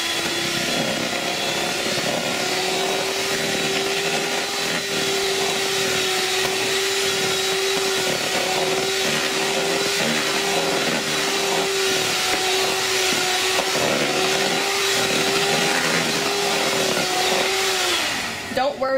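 A stand or hand mixer whirs steadily while beating cream in a bowl to make homemade butter, a loud continuous motor drone holding one pitch for the whole stretch before cutting off at the end, with no voices over it.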